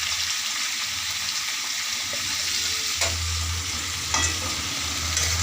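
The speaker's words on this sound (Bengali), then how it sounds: "এর মধ্যে একটু নুন আর হলুদ দিয়ে এগুলো এখন আমি ভাজতে থাকবো।" Prawns fry with salt and turmeric in a pan, giving a continuous close sizzle, and a utensil stirs them, scraping audibly at several points.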